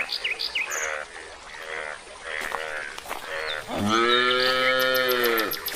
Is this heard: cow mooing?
yes